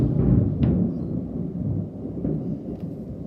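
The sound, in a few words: thunder during a storm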